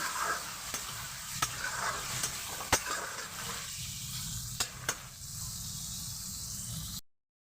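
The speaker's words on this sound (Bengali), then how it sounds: "পেঁয়াজটাকে ভেজে নেব" Chopped onion frying for chicken biryani gives a steady close sizzle, punctuated by sharp clicks of a spoon against the pan, then cuts off abruptly.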